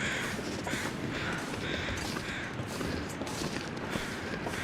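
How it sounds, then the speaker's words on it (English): Several crows caw repeatedly overhead in the survival game The Long Dark, harsh rhythmic calls in clustered bursts against a constant windy outdoor background, moderately distant. "those are just crows flying overhead."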